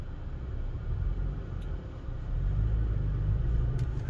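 2022 Toyota Tacoma TRD Pro crawling forward off-road, heard from inside the cab as a low, steady rumble that swells slightly partway through.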